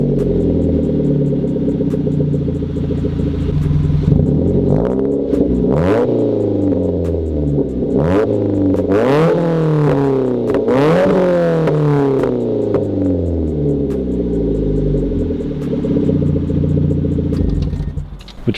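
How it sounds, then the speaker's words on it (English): A 2007 Mazda 3 sedan with a CorkSport catback exhaust on a warm start, idling loud and close, then blipped through a run of sharp rising and falling revs before settling back to a steady idle. "Let me quickly start up the car for you guys and give you a little example of what it sounds like."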